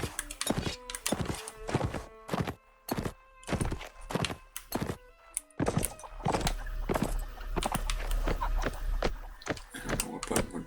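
Horse hooves clip-clop in the video game Mount & Blade: Warband, a rhythm of sharp, evenly spaced strikes that grows faster and denser partway through, with a brief whinny.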